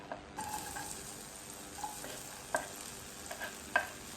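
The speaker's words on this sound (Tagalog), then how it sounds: "Magigisa na tayo mga katambay." Garlic sautéing in a pan for sardines with misua, a steady sizzle and fry with soft stirring scrapes and a few sharp utensil clicks against the pan, close and alone.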